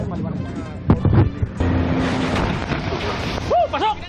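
Powerful water cannon blasts from ships at sea make a loud, rushing roar of spraying water over wind and wave noise, with voices talking and shouting throughout.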